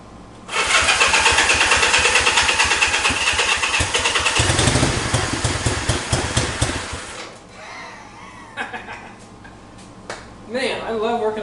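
A Honda 305 Dream motorcycle engine fires up and runs with a loud, steady, throbbing idle, then cuts out, leaving a quieter stretch with small clicks and a voice speaking.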